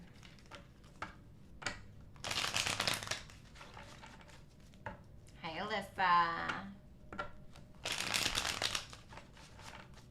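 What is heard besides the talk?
shuffling tarot cards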